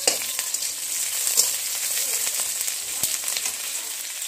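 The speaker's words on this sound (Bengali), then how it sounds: "এবার আমি প্রথমেই পেঁয়াজটা দিয়ে দিচ্ছি।" Onion sizzles and fries in hot oil in a pan, a steady close crackling hiss with a few small pops and no voices.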